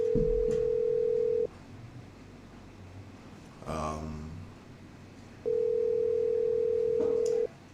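Ringback tone of an unanswered telephone call: a steady electronic tone, a pause of about four seconds with a brief muffled noise, then the same long tone again, loud and clear.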